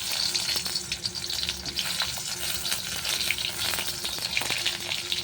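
Tomatoes for a chutney dropped into hot mustard oil in a heated kadai on a clay stove, giving a loud, dense, continuous sizzle and crackle close up with occasional stirring scrapes and no voices.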